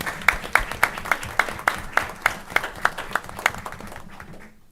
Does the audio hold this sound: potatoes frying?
no